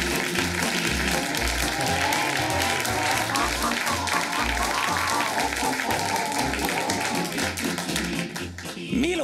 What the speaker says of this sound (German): Applaus für Milo Rau!